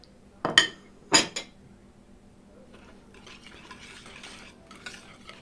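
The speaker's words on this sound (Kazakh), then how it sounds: "үстіне сүтімізді құйып, және де помидор, пиязымызды салып, жақсылап тағы да араластырып аламыз" Omelet mixture of milk, tomato and onion being stirred in a bowl, opening with two sharp utensil clinks, then a quieter run of soft stirring and scraping.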